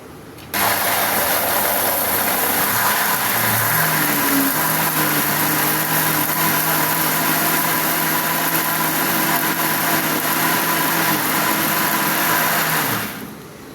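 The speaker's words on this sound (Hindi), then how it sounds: "ये जूसर जो है नॉर्मल घरों में इस्तेमाल होने वाला है, तो इसके इतने आरपीएम नहीं होते, तो ये कम से कम 3 से 4 मिनट हमने इसको जो है ब्लेंड करना है।" A household juicer runs steadily, blending peaches into pulp; its motor gives a loud, continuous mechanical whir and hum that starts abruptly, holds for about twelve seconds, then cuts off, with no talk.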